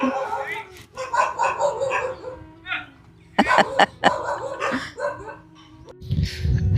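Dogs bark and yip in short bursts at a farm plantation, fairly close, mixed with whimpering and a low rumble toward the end.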